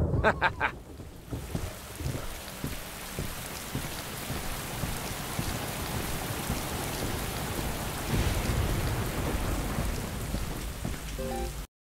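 Steady, heavy rainfall in the video game Boiling Steel, with a few sharp knocks at the start, a low rumble of thunder swelling midway and the downpour continuing dense and close before cutting off.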